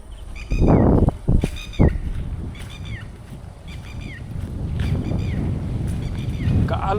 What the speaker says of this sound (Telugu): గాలి బాగా అవుతుంది, కానీ ప్రశాంతంగా